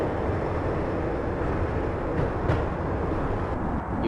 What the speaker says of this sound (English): When the train he was riding slowed down